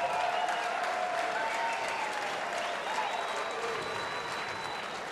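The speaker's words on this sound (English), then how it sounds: "how about one more round of applause for these two great athletes?" A crowd applauds two fighters after an amateur fight club bout, a dense, sustained clapping that fills the room and tapers slightly toward the end, with a voice faintly under it.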